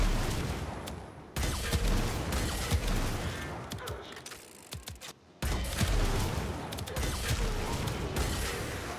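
Kuva Ogris, a spammy launcher weapon in Warframe, firing repeatedly amid game combat, heavy booming blasts and mechanical clatter in dense bursts with a brief lull in the middle.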